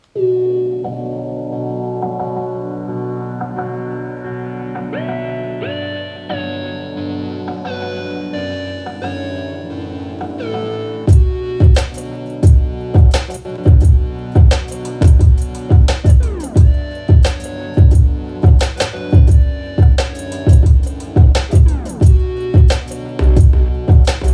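An electronic track made in Ableton opens with layered synth melody and chords, then punchy bass and steady kicks and percussion drop in, driving a loud repeating beat.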